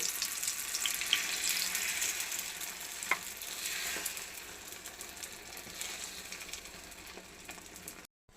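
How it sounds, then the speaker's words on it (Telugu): Beaten eggs sizzle steadily in a pan with chopped tomato pieces for an egg tomato omelette, a continuous close frying hiss with a few soft stirring clicks, fading slightly before cutting off. "తర్వాత కలిపి పెట్టుకున్న ఎగ్స్ని వేసుకుందాం."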